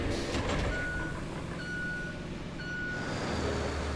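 A heavy truck idles in the RoadCraft video game while its reversing alarm sounds three steady, evenly spaced beeps over the low engine drone.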